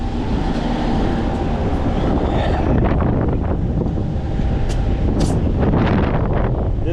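Strong wind roars steadily across the microphone beside a semi truck on a trucking run toward New Jersey, a loud continuous rumble and buffeting with no break throughout.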